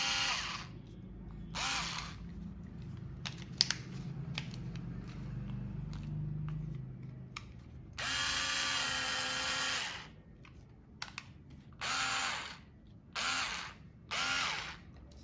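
A Black and Decker cordless screwdriver whirs in several separate bursts, a long steady run followed by three shorter spins, close and loud over quiet handling noise.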